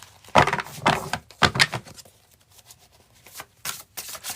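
Quick bursts of tarot cards being shuffled, a few crisp riffles close by, followed by softer, lighter handling sounds.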